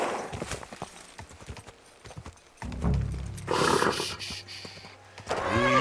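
Horse hooves clip-clop in Kingdom Come Deliverance 2, a run of close, irregular thuds with scrapes mixed in over a busy game soundscape, getting louder and heavier toward the end.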